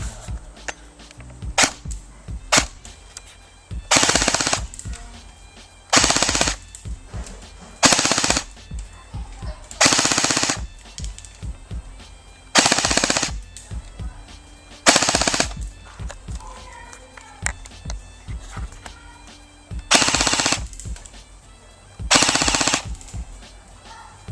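An airsoft gun fitted with an X-High-Tech motor fires full auto in about ten loud, rapid bursts of roughly a second each, with sharp single clicks and mechanical noise between them.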